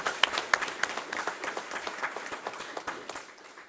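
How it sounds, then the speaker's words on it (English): A membership-meeting audience claps for the association staff, moderately quiet and somewhat sparse, with a few sharp individual claps standing out over a light, even patter that tapers off. "a round of applause for our staff"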